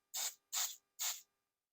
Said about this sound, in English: And I just spray it down in there.